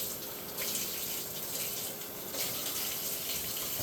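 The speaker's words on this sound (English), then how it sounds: "Let me wash this off again just to make sure." A giant spoon is rinsed under a steadily running kitchen tap, a continuous broadband gush of water with no pauses, close and fairly loud.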